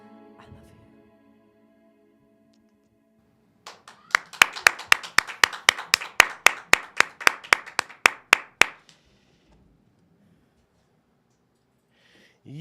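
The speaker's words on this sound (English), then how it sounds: "How about another round of applause?" Audience members clap in a quick, steady burst of about twenty sharp, close claps lasting several seconds, starting after a brief quiet and stopping abruptly before silence.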